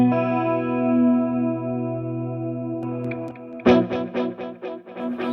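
Electric guitar played through a Fractal Audio amp modeler's 80's cover band preset, sustained chord ringing then a run of picked notes, each trailing into a soft, dark delay that sits in the background.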